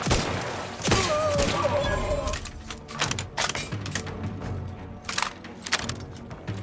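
Rapid bursts of gunfire crackle through a firefight in The Outer Worlds 2, loud and close over a busy bed of game sound.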